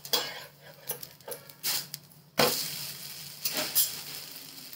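A poha dosa is flipped on a hot pan: several sharp metallic scrapes and clinks from the spatula, then a sudden louder sizzle as the dosa lands, with more scraping afterward.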